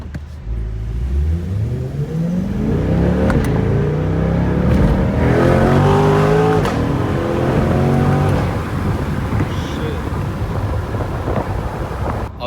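A car driven hard with the engine revving loudly through rising gear sweeps, close and sustained, then settling into steady road roar, no talk over it.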